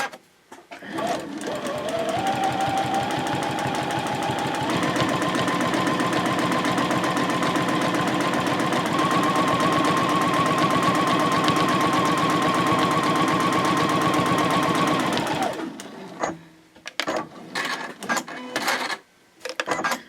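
A sewing machine runs steadily for about fifteen seconds, quilting lines on a fabric basket, close and loud with a rapid needle rhythm, then stops and gives way to a few short handling noises.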